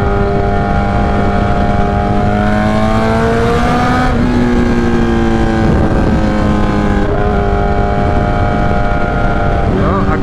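A 2008 Suzuki GSX-R 1000 with a straight-pipe exhaust revs loudly, its harsh tone sweeping up and down in several rising and falling pulls, close by and dominant.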